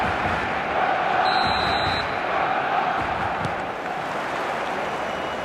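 Stadium crowd roaring in the eFootball video game before a Barcelona match, a dense continuous wall of noise with a brief whistle-like tone, easing slightly toward the end.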